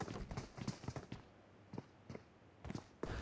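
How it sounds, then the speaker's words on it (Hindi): Enemy footsteps in a video-game building, heard as irregular faint thuds and scuffs, some in quick clusters and others spaced apart, fairly far away with no voices. "पैरों की आवाज़ आ रही थी उनकी"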